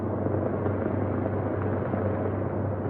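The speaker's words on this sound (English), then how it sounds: "you also hear the sound of the helicopter's rotor blades" Helicopter rotor blades beating steadily overhead, a dense continuous low thrum with broadband wash, fairly loud and unbroken throughout with no talking.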